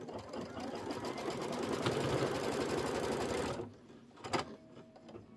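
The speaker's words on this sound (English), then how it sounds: "it's going to stitch straight across" An embroidery machine runs a straight line of stitching, a steady fast mechanical whir and needle chatter that holds for several seconds, then stops, leaving a few faint clicks and handling sounds.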